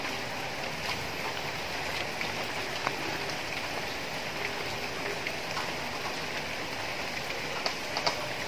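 Steady rain falls outdoors near a satellite dish, an even, continuous hiss with faint scattered drips and patters throughout and no voices.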